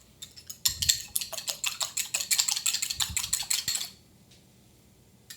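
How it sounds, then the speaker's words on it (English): A whole egg being whisked in a bowl, a rapid run of sharp rhythmic clicks of the whisk against the bowl lasting a few seconds, close and fairly loud, then stopping. "Now I've got a whole egg, and I'm just going to whisk this up."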